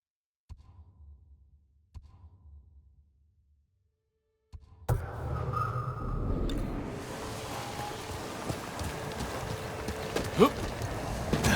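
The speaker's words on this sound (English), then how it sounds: "good horse, Kage." Horse hooves clip-clop in the video game Ghost of Tsushima, a few faint steps at first, then a louder, steady trotting rhythm over a dense ambient bed.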